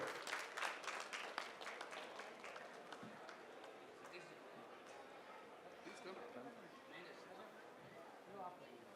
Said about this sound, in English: please, round of applause for Mr. Romy Fadado